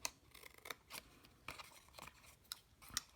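Scissors snipping paper scraps for a handmade card, a quick series of soft close cuts in an irregular rhythm, faint and alone.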